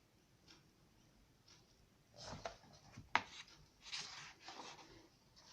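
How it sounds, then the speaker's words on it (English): Thick, cardstock-like pages of a bird and succulent colouring book being turned, giving a few soft papery rustles and a sharper crisp flick midway, close and quiet with no talking. "So it's really thick paper. You can hear that."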